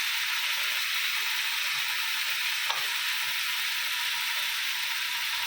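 Steady, fairly loud sizzle of potatoes, ridge gourd, tomato and green chilli frying in a pan just after yogurt goes in, continuous hiss with one brief scrape near the middle, no talk.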